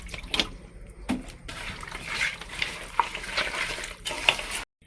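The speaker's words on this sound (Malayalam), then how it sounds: "അപ്പൊ അതിലേക്ക് വെള്ളം ഒഴിച്ച് കൊടുക്കുന്നുണ്ട്" Water poured into a pot of chicken curry over a wood-fired stove, soft trickling and splashing with scattered clinks of utensils against the pot, fairly quiet and close.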